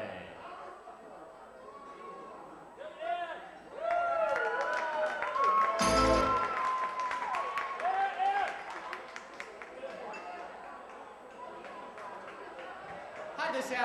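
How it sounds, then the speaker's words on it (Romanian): Audience at a karaoke night in Hard Rock Cafe applauding a debut singer, a swell of clapping and cheering rising in the middle of the stretch amid crowd chatter and a host talking over it. "Haideți să-i aplaudăm și să-i primim așa cum se cuvine pentru prima oară la karaoke."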